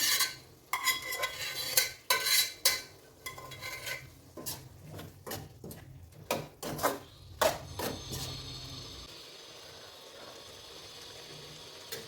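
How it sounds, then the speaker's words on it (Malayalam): A spoon stirs and scrapes cooked beef through thick roast gravy in a metal pan for a Kerala-style beef roast, with repeated close clanks and scrapes, faint sizzling beneath, then a quieter steady simmer near the end. "നമുക്കിതിന് ഗ്രേവിയിലോട്ട് ബീഫ് ഇട്ട് കൊടുക്കാം"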